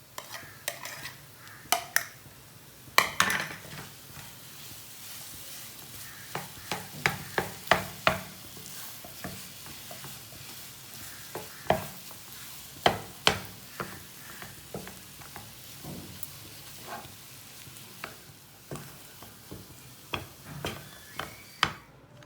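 Potatoes stirred in a frying pan for a village-style besan and potato breakfast, with a soft steady sizzle under repeated scraping and clinking of a spoon against the pan, irregular and close.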